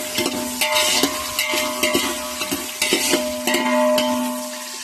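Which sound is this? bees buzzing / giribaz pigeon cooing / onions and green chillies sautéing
onions and green chillies sautéing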